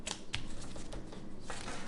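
Thin, silky tarot cards from a CBD Tarot deck being shuffled by hand, giving a short run of soft crisp riffling and flicks against quiet room noise, with no one talking.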